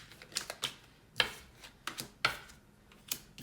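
Tarot cards are shuffled in a series of short, crisp riffles and snaps. About nine separate bursts fall at an uneven pace over a quiet background, close and clear, with no talking.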